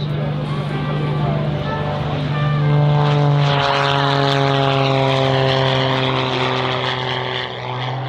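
An Extra 330SC aerobatic propeller plane taking off at the Gap-Tallard air show, a loud sustained engine drone rising in pitch as it climbs away, with a voice talking over it.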